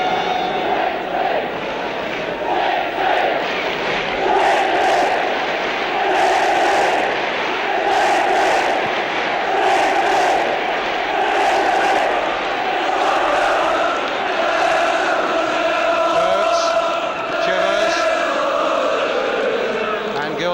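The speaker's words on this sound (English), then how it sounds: "the crowd now, without too much to uplift them on the field, hoping that somehow they can inspire the players in this cup final" A large football crowd at the 1973 League Cup final, Tottenham Hotspur against Norwich City, chants in loud, rhythmic swells that repeat steadily, with a commentator talking over the roar.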